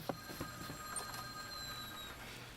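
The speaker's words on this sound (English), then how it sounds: "The caller proved incredibly persistent. That persistence made the volume of the ringing seem even louder." A telephone rings on and on in a visual novel game, its steady electronic tones fairly faint beneath a soft background hum.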